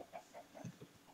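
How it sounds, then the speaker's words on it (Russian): Chicken clucking in the Minecraft video game, a few short, soft clucks in quick succession, faint and alone. "Опа, есть цыпленок."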